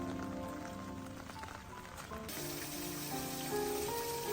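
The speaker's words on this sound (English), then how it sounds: "It was just when we were at Kinkakuji that it started raining." Rain falls steadily on the pond at Kinkakuji temple in Kyoto, a continuous close hiss of droplets that runs through the whole stretch with sustained tones layered over it.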